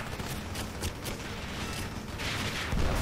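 Turret gunfire in the 007 Legends video game rattles in a dense, continuous burst of rapid shots, loud and close, with a heavier blast near the end.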